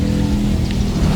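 Heavy rain used as a sound effect in a school drama of the Legend of Lake Toba: a loud, dense, continuous hiss of falling rain, with no voices.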